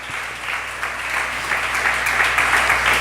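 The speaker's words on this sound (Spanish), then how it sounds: "Dele un aplauso fuerte al Señor si usted lo cree." A church congregation gives sustained applause during a Spanish-language sermon, a dense, even wash of many hands clapping that holds steady and grows slightly louder.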